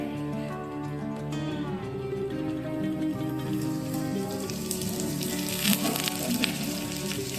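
Onions and spring onion tops frying with mashed roasted eggplant in a pan for Khandeshi-style baingan bharta, a steady, crackling sizzle up close with faint scraping toward the end, no speech.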